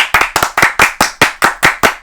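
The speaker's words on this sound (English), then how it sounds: "Give Tim Anderson a round of applause" A few people clapping for a round of applause, about a dozen sharp, close hand claps in an uneven quick rhythm with no voices over them.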